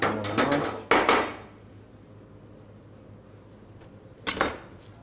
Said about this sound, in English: Let's chop a bit of rocket.